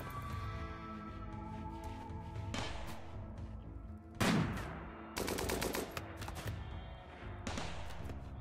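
Automated turret gunfire in the colony game RimWorld, heard as a few bursts of rapid, crackling shots with a heavy thud among them, set over a steady game music bed.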